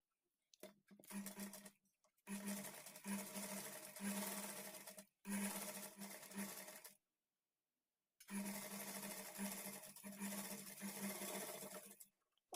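A sewing machine stitches a blouse back neck a quarter inch from the edge, running in four steady bursts of a few seconds each with short pauses between, close and alone.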